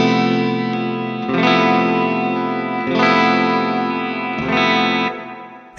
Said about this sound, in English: Jazz clean, that's a nice clean tone.